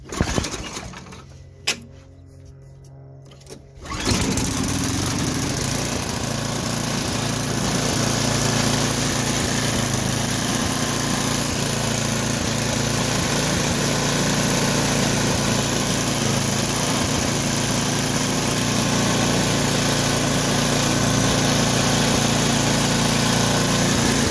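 An MTD snowblower engine with a freshly reassembled starter, a few brief pulls and sputters, then the engine catches and runs at a loud, steady, droning roar close by.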